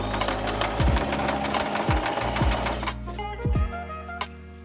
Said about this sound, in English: along the edge I will sew them together